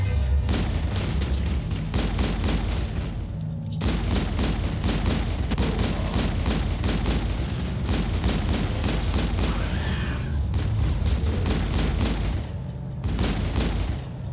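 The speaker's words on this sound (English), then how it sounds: "Throw a grenade at the husk's feet now." Combat in the video game Mass Effect, where a grenade goes off amid rapid, repeated gunfire bursts and booms, loud and dense throughout with short gaps and no voices.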